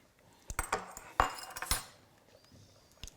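A spoon stirs yellow gazpacho in a bowl, giving a few scattered clinks and scrapes of metal against the dish, quiet and close, with short gaps between strokes.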